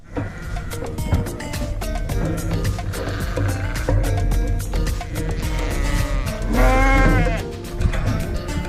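A flock of ewes bleats loudly and continuously while being dosed with a drench in the sheepfold, many overlapping calls close by with a stronger bleat near the end.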